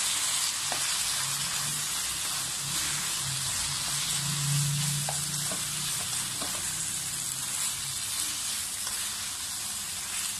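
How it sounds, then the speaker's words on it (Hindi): Vegetable noodles being stirred in a hot pan, a steady close frying sizzle with soft scraping and a faint low hum, continuous throughout with no talking. "अब हम इसमें अपने नूडल्स ऐड करेंगे। अच्छी तरह मिक्स कर लेंगे।"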